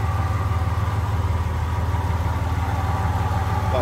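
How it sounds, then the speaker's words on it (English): A V8 engine in a 1965 Ford Galaxie 500 XL Convertible idles steadily up close, with a low, even rumble and a fast regular throb that holds without revving. "As you can see, smooth running engine,"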